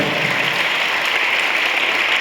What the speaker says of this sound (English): Please give them a nice clap.